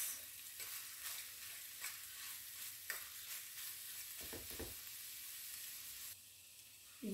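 Vegetables being stirred and mashed in a hot pan for a potato and minced-meat gratin with caramelised grated carrots: steady sizzling with scraping strokes of a utensil, a few louder thuds near the middle, with no talking.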